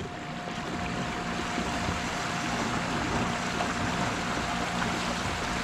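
Kayaks running electric outboard motors, Torqueedo 1 and 1.8 units against a 3 horsepower motor, at full throttle on open water, giving a steady broadband wash of water and wind with a faint motor hum throughout.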